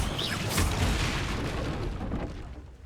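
A Bombarda blasting spell explosion in the Hogwarts Legacy video game, one loud, dense boom that bursts in at the start and rumbles on for a couple of seconds before fading.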